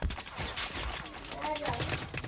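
Rapid bursts of gunfire fill a COD Mobile battle royale match, dense and continuous over the whole stretch with no pause.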